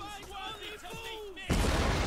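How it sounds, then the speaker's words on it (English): Siege explosions in the strategy game Total War Medieval Kingdoms, set in 1212 AD: after a voice talking, a sudden loud, broad blast erupts and roars on steadily to the end. "I'm waiting on the explosions to go off."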